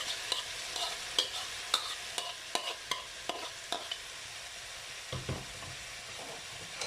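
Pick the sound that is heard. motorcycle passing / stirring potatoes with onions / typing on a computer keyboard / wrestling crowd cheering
stirring potatoes with onions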